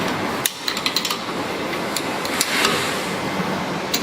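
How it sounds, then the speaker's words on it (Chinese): A wrench tightening a pipe fitting on an automatic steamed bun machine: a quick series of small, close metallic clicks and taps over a steady background hum, with no talk. "然后用扳手把它锁紧"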